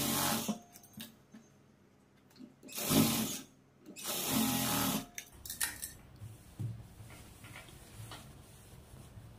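A sewing machine sews a half-inch seam at a blouse shoulder in several short mechanical bursts of whirring, close by with handling noise between them and no voices.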